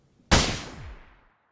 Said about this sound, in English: This is a gunshot.